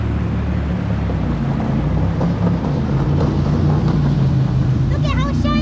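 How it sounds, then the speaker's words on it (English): A boat approaching on Lake Wakatipu, heard as a steady low engine drone with water and wind noise throughout, while people talk nearby. "Oh, here comes the boat."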